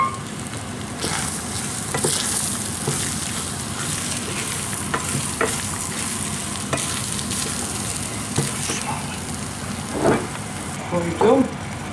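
Tomato paste fries in a pan with pul biber, sweet paprika, isot and black pepper, giving a continuous close sizzle marked by repeated stirring scrapes and a few louder clatters near the end.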